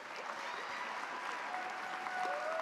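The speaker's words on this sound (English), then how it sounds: "So one last round of applause for these three outstanding people." Steady audience applause filling a high school honors night auditorium, dense and continuous clapping at moderate distance with no talk over it.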